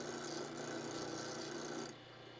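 A point tool is sharpened with a steady, continuous rasping grind for about two seconds, close and fairly quiet, which then cuts off, leaving low room noise.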